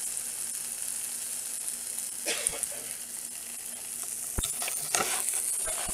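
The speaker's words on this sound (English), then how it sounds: "There's the sausage cooking away." Sausages frying in a pan give a steady, close sizzle throughout, broken by a few sharp ticks and clinks of a utensil against the pan.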